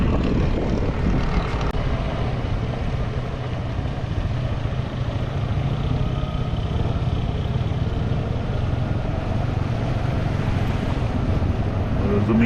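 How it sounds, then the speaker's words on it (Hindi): A motorcycle rides along a flooded road in a city under water, its engine droning steadily, loud and close, with continuous wind and water noise across the whole stretch. "अब वो देखते हैं कि गुजर पाएगा कि नहीं मोटरसाइकिल।"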